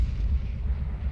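A grenade goes off in a CS:GO match at the PGL Major Krakow 2017, heard as a short, deep rumbling boom that fades out.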